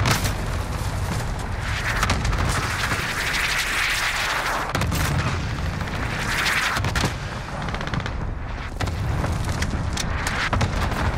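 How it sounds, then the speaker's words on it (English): Cluster strike explosions in a video game, a continuous barrage of heavy booms and rumbling blasts layered with rapid gunfire, loud and dense throughout with brief dips between impacts. "Enemy cluster strike incoming."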